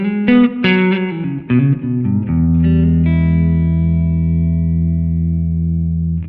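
Clean electric guitar tone played into a Von Laak King Leo amp: a run of quick picked notes, then a full chord that rings out steadily and close for several seconds, with no talking.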